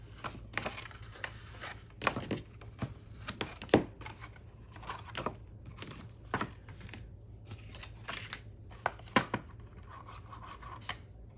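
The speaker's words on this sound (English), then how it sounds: "I'm just going to give it a rub, distribute that glue out" Glue being rubbed and smeared by hand across a square cardboard box lid for a Christmas ornament craft, giving close, irregular papery scuffs and rasping strokes in short bursts with brief pauses.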